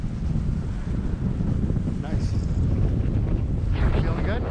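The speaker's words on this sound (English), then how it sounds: "Some wind." Steady wind buffeting an outdoor microphone at a ski area, a loud broadband rush that lasts throughout with brief voices over it.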